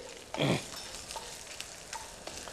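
Kolhapuri red chillies fry quietly in a pan, giving a faint, soft sizzle. Near the start a brief, louder burst of stirring or spattering stands out.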